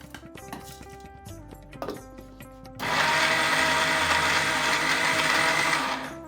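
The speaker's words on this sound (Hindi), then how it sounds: "ठंडा होने पर सारे ड्राई फ्रूट्स को हम लोग मिक्सर ग्राइंडर में दरदरा कर लेंगे।" Mixer grinder coarsely grinding dried fruits and poppy seeds, with clattering and tapping at first, then the motor starting into a loud steady whirring roar that runs to the end, with no talk.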